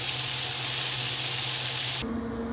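Steak bites sizzle steadily in a frying pan, a dense, continuous hiss with no talk, easing slightly near the end.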